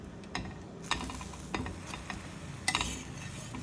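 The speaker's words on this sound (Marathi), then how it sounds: "बटर नसेल तर तूप लावलं तरी चालेल. आता दुसऱ्या बाजूने भाजून घेऊ." Butter or ghee sizzles softly as a vegetable sandwich toasts on its second side in a pan, with a few scraping and stirring clicks of a spatula standing out over the steady frying hiss.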